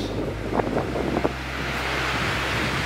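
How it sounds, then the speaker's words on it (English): Strong wind gusting on a hiking trail, buffeting the microphone with a close, continuous low roar and rushing hiss that swells and eases; no voices. "I gotta say the wind is just gusting way too much"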